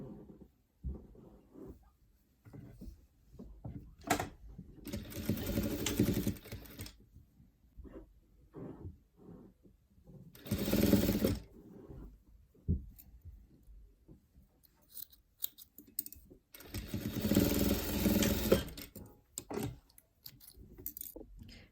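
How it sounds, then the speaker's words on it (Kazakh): A sewing machine stitches a seam in patchwork quilting, running in short rattling bursts separated by quiet pauses. "осы сызықтың бойымен тігіс жүргіземіз"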